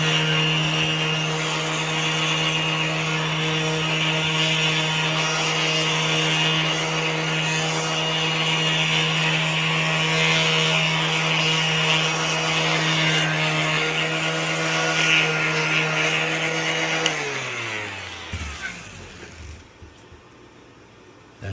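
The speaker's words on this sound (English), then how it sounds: "I'm going to clean it up with some 220 sandpaper." A power sander with 220-grit paper smooths the edges of a small wooden badge, giving a steady droning motor whine that continues without a break, then winds down and stops near the end.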